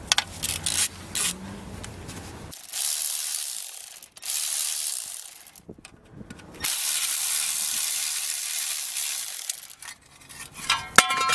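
A ratchet working a 12mm bolt off the heat shield of a GSR B18C1 engine during a swap removal, rapid clicking pawl sounds in several runs separated by pauses and metallic handling noises.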